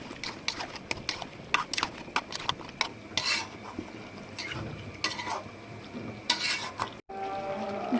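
Shol fish being added to a pot of frying potatoes, giving close sizzling and spitting crackles with clinks of a utensil against the pot, irregular bursts rising and falling throughout.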